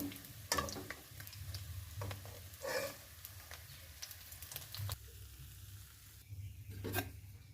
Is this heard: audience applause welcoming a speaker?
no